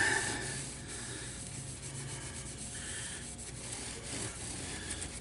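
Steady soft rubbing of wax onto a guitar neck held in a neck jig during fretwork, a continuous quiet scrubbing texture with no talk.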